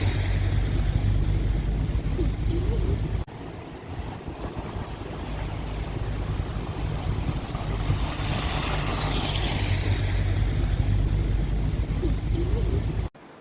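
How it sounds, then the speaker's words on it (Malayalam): A small waterfall along a rainy path, a steady broad rush of falling water with wind buffeting the microphone, loud and unbroken throughout. "നമ്മളിപ്പം പോകുന്ന വഴിക്ക് കുഞ്ഞു വെള്ളച്ചാട്ടമുണ്ട്."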